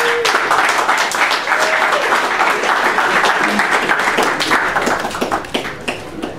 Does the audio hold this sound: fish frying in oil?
no